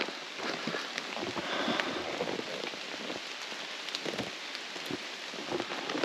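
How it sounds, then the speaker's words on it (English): Steady rain patters down continuously, a dense hiss of drops striking surfaces, with occasional louder drips standing out nearby. "Raining now."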